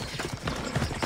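Horse hooves clip-clop in the video game Assassin's Creed Odyssey, a brief run of dense, muffled hoofbeats against a noisy background.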